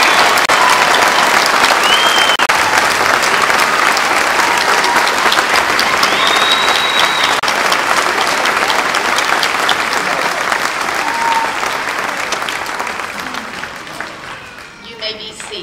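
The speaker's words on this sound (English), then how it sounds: "Let's give our candidates a round of applause." Sustained applause from a crowd at a summer college commencement ceremony, dense clapping that holds steady and then tapers off at the end, with a few faint whistles above it.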